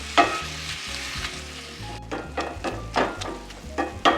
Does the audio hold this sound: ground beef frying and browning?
yes